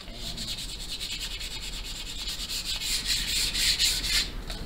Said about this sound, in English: I got some 320 grit sandpaper.